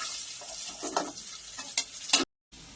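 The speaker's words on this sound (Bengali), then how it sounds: "এবার রসুন কুচি দেবো" Chopped garlic hits hot oil already frying with dried red chilli, bay leaf and cumin, giving a steady close sizzle with a few sharp stirring scrapes before a brief dropout.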